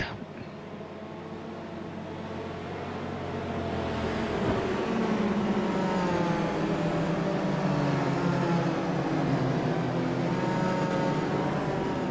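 Race cars circling Mosport, now Canadian Tire Motorsport Park, make a steady, droning engine roar that builds after a few seconds and holds loud, with layered buzzing tones like a swarm of bumblebees.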